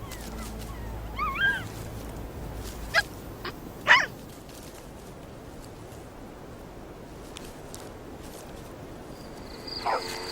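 A jackal pup lets out a few brief, high whimpers and yips, scattered and fairly close over a quiet outdoor background.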